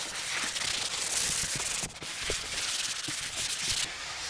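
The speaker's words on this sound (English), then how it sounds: "a little quick sanding" Quick hand sanding across a wooden dining room furniture piece, a close, steady scratchy rubbing in short back-and-forth strokes lasting a few seconds.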